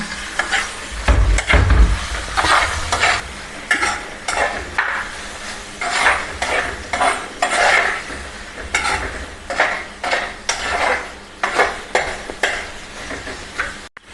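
Native curry leaves crackle and sizzle in hot oil in a pan for a Kerala prawn roast, with steady frying hiss, bursts of spattering and occasional stirring scrapes of a utensil against the pan, close and fairly loud throughout.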